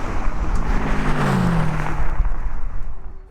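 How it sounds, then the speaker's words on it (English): A McLaren 720S, a BMW M5 and a Nissan GTR race in a street drag contest, heard as a loud, close, continuous roar of engines that holds steady, rising in pitch, before easing off. "the Mac actually out-launches the all-wheel drive GTR and shows it a direct route to Gappy's stand"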